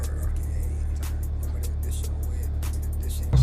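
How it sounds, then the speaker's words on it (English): A Honda Civic Type R FK8 driving at night, a low steady engine and road drone from inside the cabin with faint ticks, rising slightly at the end. "So I'm driving the car now."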